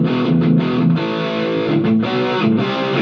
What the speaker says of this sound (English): Okay, distortion.